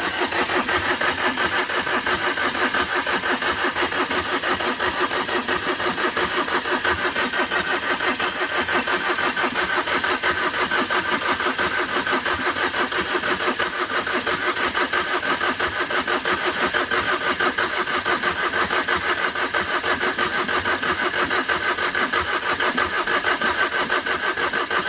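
Tata Vista engine cranking after overheating without catching, a long loud unbroken starter whirr that churns evenly with no firing or revving.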